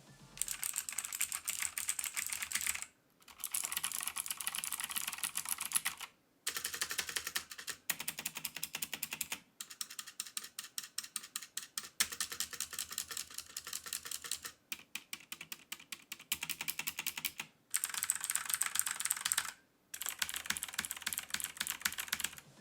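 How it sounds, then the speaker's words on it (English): Typing on a mechanical keyboard with Sun Blue switches, crisp rapid clicky keystrokes in bursts of several seconds separated by short silent pauses, close and alone with no voice. "here's just a quick sound test of how the Sun Blue switches sound"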